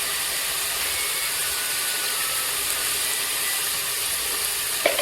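Village-style ground masala frying in a hot pan for a goat mutton curry, a continuous even sizzle and hiss throughout, with a brief sharp scrape near the end and no voices.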